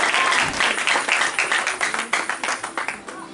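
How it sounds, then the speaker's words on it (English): A church congregation at a birthday celebration claps together in brisk, close applause. The claps are dense at first and settle into a rhythmic beat. "Clap for Jesus."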